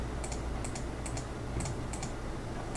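Computer keyboard keys, including Ctrl and Alt, pressed during Photoshop layer editing: about six sharp, close clicks in quick irregular pairs, alone over a steady low hum.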